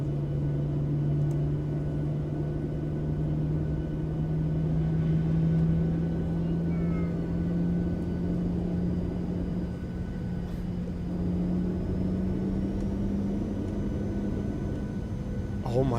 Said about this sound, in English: That right when you add thrust, it's like like a whooshing sound.